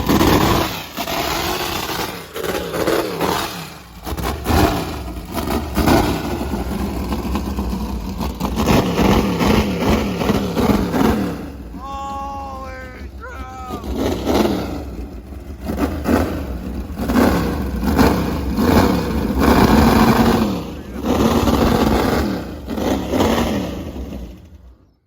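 A powerful jet boat engine roars and revs steadily nearby, loud and continuous, with a brief exclamation from a voice partway through.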